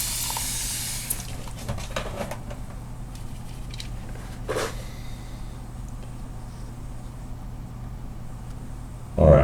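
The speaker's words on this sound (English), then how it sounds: "I'm going to just spray my palette quick" A few quick hissing spritzes from a spray bottle misting an acrylic paint palette, close by, over a quiet, low background hum.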